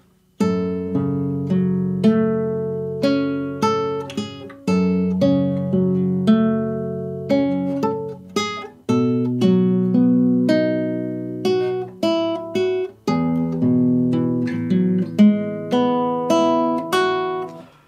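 A guitar plays a slow melody line from Final Fantasy 7 Remake, each plucked note ringing out and fading before the next, clear and close with no talking.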